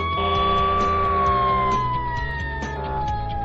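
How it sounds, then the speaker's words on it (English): Fire engine siren, a steady sustained wail that slowly falls in pitch, loud and continuous with a low rumbling tone beneath, no voices. "Fire engine."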